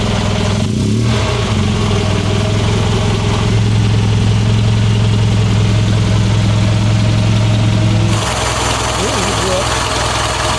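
A vintage luxury coupe's engine fires on the first try and settles into a steady, close idle, its low rumble continuous beneath occasional talk.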